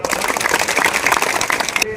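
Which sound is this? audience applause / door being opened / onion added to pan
audience applause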